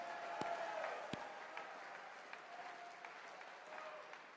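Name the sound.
audience applause at CPAC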